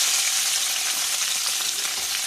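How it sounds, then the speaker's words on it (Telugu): Eggplant pieces and green chilies fry in hot oil in a pan, giving a steady, close, loud hissing sizzle with no talking. "వంకాయలు వేసేస్తున్నాను నూనెలో."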